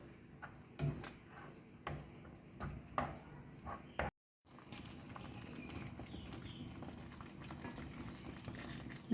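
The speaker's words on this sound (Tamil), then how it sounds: "நல்லா கொதிக்குது பாருங்கள்." A tamarind mixture boils in a pot, bubbling and popping in a steady, close rhythm for several seconds, with a brief drop to silence partway through.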